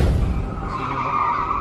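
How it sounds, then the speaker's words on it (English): A car flipping over and skidding along a road in a crash, heard as a loud, sustained scraping skid with a steady grinding tone lasting the whole moment. "suddenly flipping over and skidding down the road like an action scene"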